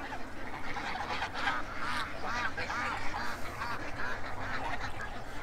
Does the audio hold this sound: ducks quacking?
yes